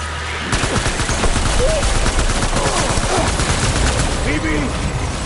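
Rapid gunfire in the game Death Stranding, a loud, dense burst of machine-gun fire that starts abruptly and rattles on steadily and close, with shouting voices faintly mixed underneath.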